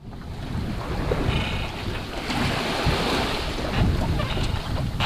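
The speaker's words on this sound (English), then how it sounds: "So here we are at sea again. We are sailing south." A sailboat under way at sea in the Indian Ocean, with steady rushing wind buffeting the microphone and waves washing against the hull, loud and continuous with no talking.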